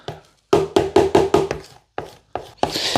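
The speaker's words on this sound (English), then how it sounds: "Get the rest that is stuck on the edges with a spoon." A spoon scrapes and knocks homegrown tobacco off the edges of a container: a quick run of sharp, close, rhythmic taps, a short pause, then a few more hits and a brief rasping scrape at the end.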